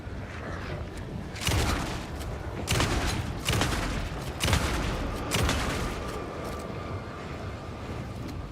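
Enemy gunfire in the survival horror game Alan Wake 2. Several loud bursts of shots come in a rough rhythm over about six seconds, each a sharp crack with a booming tail, over a low ambient bed.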